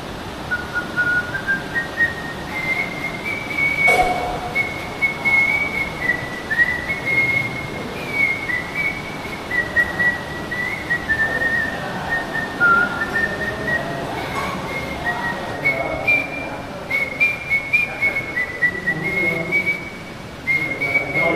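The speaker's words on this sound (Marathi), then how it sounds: "शिट्टीवर गाणं म्हणतात" A melodic tune is whistled steadily and clearly for the whole stretch, wavering in pitch, with a low rumbling background underneath.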